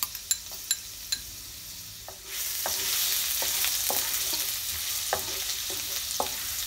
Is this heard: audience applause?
no